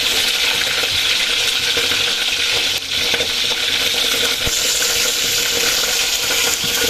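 Boiled chicken feet frying in hot oil, a loud close continuous crackle and sizzle with scattered pops and spatters throughout, with no talking.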